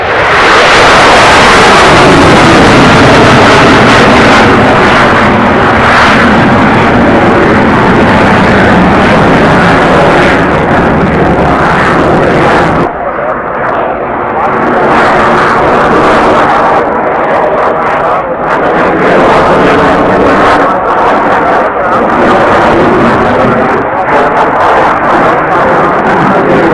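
Jet aircraft flying a display at the 1992 Farnborough Air Show on afterburner, a loud sustained roar that swells and shifts in tone as it passes, with no voices heard.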